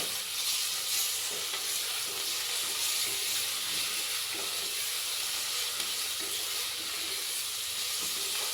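Ginger garlic paste frying in a pan for tomato bath, a steady, bright sizzle and hiss that holds evenly throughout with faint stirring scrapes and no talk.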